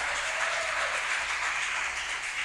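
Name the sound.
congregation applauding loudly in church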